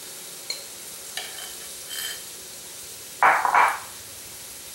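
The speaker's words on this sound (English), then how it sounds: "at this point, I'm going to be adding some rice," Cooked rice being stir-fried into cauliflower fried rice gives a faint background sizzle, a few light clinks, and one louder burst of scraping and tossing near the end.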